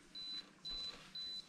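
Three evenly spaced electronic beeps from a camera self-timer set to ten seconds, each lasting about a quarter second, clear and alone over a quiet room background.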